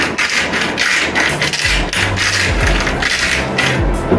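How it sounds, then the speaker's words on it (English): A cheap dollar-store pepper grinder cranks peppercorns in a run of close, dry scraping and crunching strokes, steady and fairly loud with no talk. "I'm just gonna grind a bit in there."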